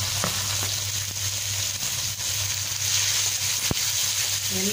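Onion, garlic and curry leaves fry in a pan with a loud, steady crackling sizzle, a low hum and a few sharp utensil clicks.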